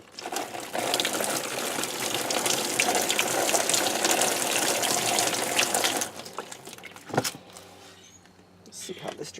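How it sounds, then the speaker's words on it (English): Water gushes steadily from a bucket onto cardboard in a homemade compost bin, a loud continuous pour that stops abruptly, followed by quieter dripping and draining sounds. "put a little water on this cardboard first before I put my kitchen scraps in"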